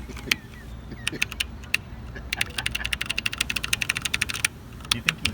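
Keys pressed rapidly on a lighting console desk at a rock concert, crisp clicking taps in quick bursts, a fast run in the middle, fairly close and moderately loud.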